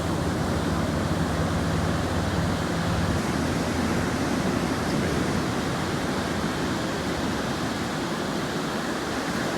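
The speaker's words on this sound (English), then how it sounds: "Here comes the next one. Tidal surge." Tidal surge waves crash in a steady, loud, broadband roar of churning water and surf, sustained throughout without a break and with no voices.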